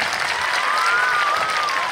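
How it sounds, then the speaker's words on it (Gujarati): An audience at a high school golden jubilee celebration applauds the teachers with a thick, steady burst of clapping. It is loud and continuous throughout, with a faint whistle-like tone drifting through it. "એકવાર જોરદાર તાળીઓ પડીને આપણે બતાવીએ."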